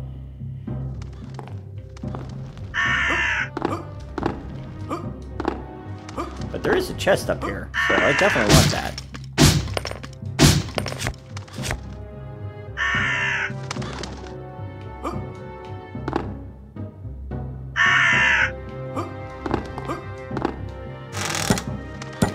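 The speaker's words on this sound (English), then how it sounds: "If you want to try and not deal with the crows attacking you everywhere." Crows in the video game UnEpic caw in repeated short bursts amid thunking hits and taps, while someone talks over the action.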